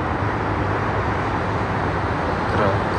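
Continuous hum of passing cars and rubber tyres on a busy Dubai road at night, a dense, even rush that swells slightly near the end, with no distinct voices above it.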